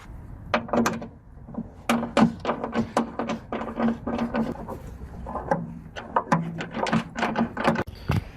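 An 8mm socket ratchet wrench backs out three headlight bolts on a Chrysler Town & Country or Dodge Caravan, giving close, rapid bursts of ratcheting clicks in repeated strokes with brief pauses between.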